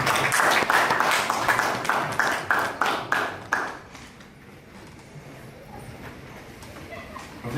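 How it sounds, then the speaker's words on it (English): Workshop participants give the volunteers a round of applause, a close, loud burst of clapping that thins into a few sharp, spaced claps and then fades to quiet room tone after about four seconds. "Let's give them a round of applause."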